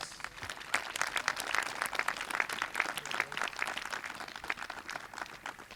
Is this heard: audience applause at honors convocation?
yes